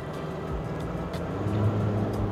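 A pickup truck downshifts and accelerates to overtake on a road, its engine a steady, close low drone with a gradual rise in loudness and no talking.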